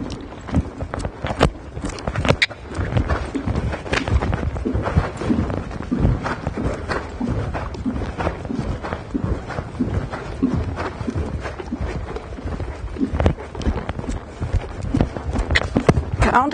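Horse hooves cantering on a dressage arena footing, with steady rhythmic thuds close by that continue for the whole stretch, without speech.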